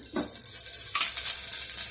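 A pinch of asafoetida dropped into hot oil with crushed garlic and onions, setting off a close, hissing sizzle with a stirring scrape for a couple of seconds.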